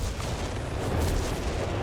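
Artillery barrage in the World War II strategy game Company of Heroes 3 during a 2v2 match: a dense, continuous rumble of heavy booms and blasts, loud and unbroken, with no voices.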